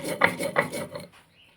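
Mustard seeds and cashews are ground into a paste by hand on a grinding stone with rhythmic rasping strokes. About three close strokes are heard before the sound fades out.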